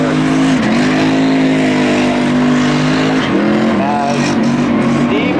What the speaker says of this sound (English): As Steve Herron burns it down in turn 3.